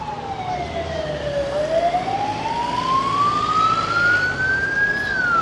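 A wailing ambulance siren sweeps slowly down then rises again over steady road traffic noise on a Benidorm avenue, fairly close and loud throughout.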